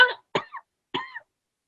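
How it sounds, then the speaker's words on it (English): A woman gives a short cough, then two more brief coughs with small throaty tails, close and distinct against silence. "she coughs a bit"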